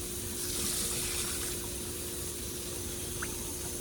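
Water running steadily into a pot holding one cup of rice, a continuous close rushing splash for a few seconds with no talk.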